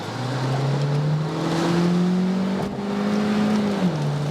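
A VW T-Roc Cabrio convertible with its top down, accelerating in sports mode from about 50 km/h. The turbo engine drone rises steadily in pitch through the gears, with steady wind noise around it.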